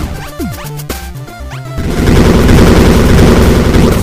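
A loud burst of explosion noise from the video game Robot Wants Fishy follows a few seconds of chirpy electronic game bleeps and slides, then a dense crackling blast that fills the rest of the moment.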